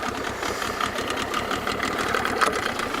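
A small outboard boat motor on a fishing trip runs with a rapid, even putter and mechanical knocking, loud and close, with no speech over it.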